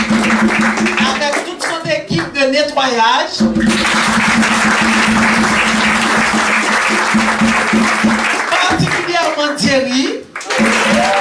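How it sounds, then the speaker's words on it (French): At a French-language Sunday church service, the congregation claps loudly in rolling bursts while someone speaks over the applause, and the clapping rises again near the end. "Nous voulons vous demander d'applaudir très très fort"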